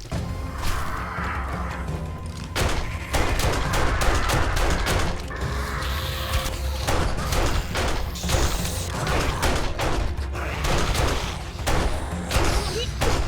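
Rapid bursts of gunfire from shooting mutants in the survival game 7 Days to Die, beside an inn's pool, with repeated sharp cracks in clusters over a steady low rumble, loud and close throughout, mixed with clattering impacts.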